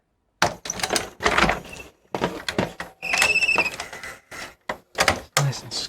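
A Panasonic NV-HD100 VCR tape mechanism squeaks and clunks as a tape loads, with repeated short squeals, thunks and mechanical whirring in bursts close by, without speech.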